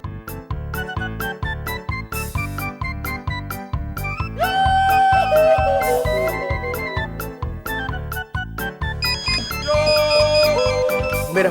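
A mobile phone ringtone plays a loud, repeating electronic melody with a steady beat, continuing without pause.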